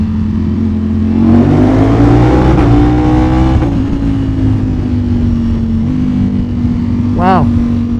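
A Ducati Panigale V4 superbike engine revs hard inside a tunnel, a loud, droning roar with pitch swings as the throttle opens and eases, echoing close by, with a voice briefly heard over it.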